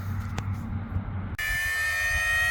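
A Losi Promoto MX radio-controlled motorcycle starts up with a sudden loud, high-pitched jet-like whine that cuts in after a low hum and holds steady.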